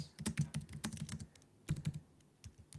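Quick, close, fairly quiet clusters of computer keyboard keystrokes come in uneven bursts separated by short pauses, with no talking.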